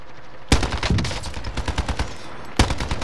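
Fortnite gunfire, a sharp shot followed by a rapid rattling burst of shots, then another sharp shot near the end, loud and close.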